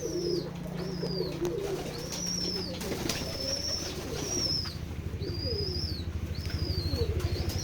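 Pigeons on a pigeon farm give low, repeated coos, with a series of short, bright calls above them and some rustling and scratching toward the end.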